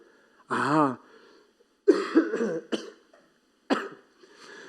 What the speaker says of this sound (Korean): 제가 막 기침을 하잖아요